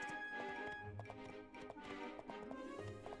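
Horse galloping in the video game My Time at Portia, with quick, rhythmic clip-clop hoofbeats repeating over a sustained musical background, no talking.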